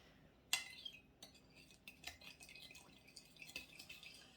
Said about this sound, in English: Okay, stir it all up.